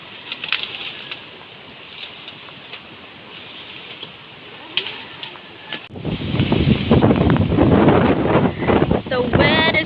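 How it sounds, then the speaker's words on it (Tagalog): Strong wind roaring on a farm near the sea with waves, gusty rumble buffeting the microphone, growing much louder and fuller in the second half, with a voice talking over the first part. "The wind is super, so strong, and also the waves there"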